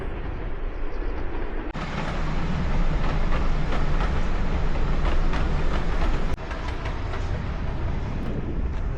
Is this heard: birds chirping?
no